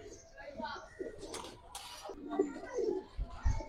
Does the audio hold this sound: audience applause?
no